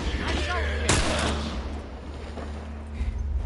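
A single loud, sharp gunshot in a video game with a booming tail, set against rumbling game ambience and faint later thumps, with a voice talking in the background.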